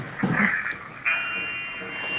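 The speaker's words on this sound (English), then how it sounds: "And then the beep went off right after." An electronic beep sounds during a paranormal investigation on Rampart Street in New Orleans: a steady, fairly loud high tone starts abruptly about a second in and holds to the end, after a short murmur of noise.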